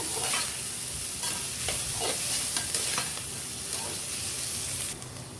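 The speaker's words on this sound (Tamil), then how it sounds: "லைட் ப்ரௌன் ஆகிற வரைக்கும் வதக்கிடலாம்." Tomato rice ingredients sauté in a hot pan, with steady sizzling and frying hiss and repeated scraping stirs of a spoon against the pan, close up and without talk.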